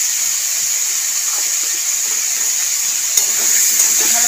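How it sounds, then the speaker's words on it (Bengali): Cauliflower florets seasoned with salt and turmeric fry in hot oil for a Bengali mixed vegetable dish, giving a steady, close, continuous sizzle that holds evenly throughout with no voices. "ভালো করে লাল লাল করে ভেজে নেব ফুলকপিটাও।"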